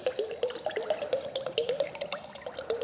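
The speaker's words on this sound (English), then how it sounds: "now I've got to mix my hot oil" Hot oil is poured into a bucket of hot water to make a sponging solution for a horse in a barn. A quiet liquid trickle carries rhythmic drips and splashes throughout, with no talking.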